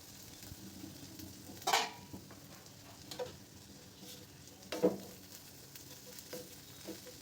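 Kolmi greens (water spinach) stir-fried dry in a pan with no water added: a faint, steady sizzle broken by a couple of louder stirring scrapes.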